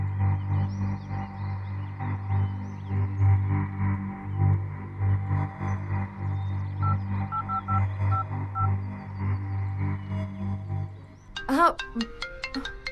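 A phone's ringtone in a Bhojpuri family scene: a repeating melodic ring rises clearly near the end, cutting through steady background hum, with a brief spoken word at the start.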